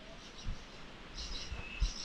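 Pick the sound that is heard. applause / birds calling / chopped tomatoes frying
birds calling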